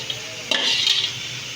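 Bottle gourd dropped into a hot pan and stirred for sautéing, a brief clatter and scrape followed by a soft steady sizzle, close and alone.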